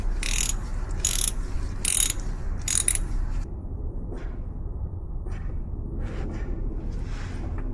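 Ratchet clicking in four quick, loud bursts as a 1/4 inch drive loosens the rear differential drain plug on a Ram 1500 TRX, with no one talking and a few faint tool taps afterward.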